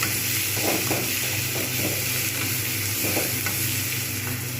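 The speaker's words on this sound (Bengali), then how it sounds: "আদা রসুন পেস্ট এগুলো সবগুলো কষিয়ে নেব ভালোভাবে কষাবো" Ginger garlic paste sautéing in a pan for Bengali moong dal with rohu fish head, a steady loud sizzle and frying hiss with a few soft stirring scrapes, continuous and close with no voices.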